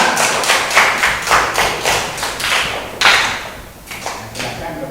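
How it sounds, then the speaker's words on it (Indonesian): Classroom applause for a student group, a burst of many rapid, close hand claps from a group of students that fades out after a few seconds. "Mana tepuk tangannya buat kelompok 2?"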